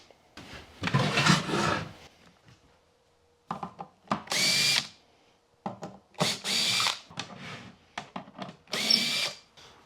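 A power drill backs screws out of a wooden beehive brood box in short, loud whirring bursts, roughly six separate runs with brief pauses between them, close up and with no talk.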